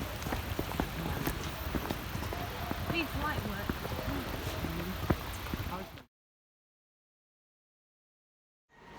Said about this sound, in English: Beautiful horses on the way down.